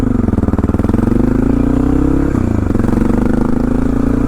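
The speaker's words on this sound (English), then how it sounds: "Motor sounds great." A 2004 Honda XR650L single-cylinder engine runs steadily and loud, close by, its pitch lifting slightly as it revs, with no voices over it.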